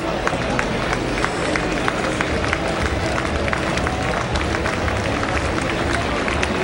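A baseball crowd at a Worcester Red Sox home game against Buffalo applauds steadily, a dense patter of clapping with scattered cheers, filling the space evenly throughout.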